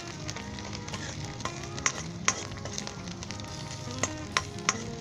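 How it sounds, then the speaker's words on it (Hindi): Onion, ginger and garlic sauté in a pan with green cardamom, whole black pepper, cinnamon and cloves, a continuous close sizzle broken by sharp clinks of a spoon stirring against the pan. "अब इसके अंदर आप सब्ज़ इलायची, काली मिर्च साबुत और दालचीनी और 2 लौंग शामिल कर दें और इसे आधे मिनट के लिए"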